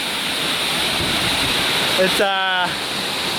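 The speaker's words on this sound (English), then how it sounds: "we made it to the waterfall" Rushing waterfall in a rain forest roaring steadily and loud throughout, with a voice speaking briefly over the constant water noise near the end.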